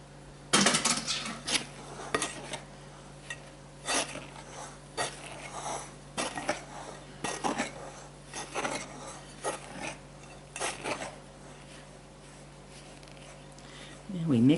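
A spatula scrapes and knocks against a bowl in irregular strokes while mixing apple cider rye bread ingredients, close and moderately loud, ending with a brief rising squeak.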